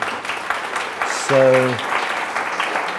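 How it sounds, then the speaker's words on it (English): Short burst of audience applause at a ClojureScript lightning talk during a Node conference, a steady patter running under and around a presenter speaking into a microphone. "I didn't mean to beg for applause"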